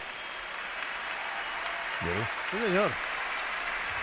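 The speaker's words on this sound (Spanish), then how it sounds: "ahí está el aplauso de momento de San Mamés" Stadium crowd at San Mamés applauding during an Athletic Club vs Real Betis league match as a player leaves the pitch, a steady wash of clapping under a commentator's voice, swelling briefly near the end.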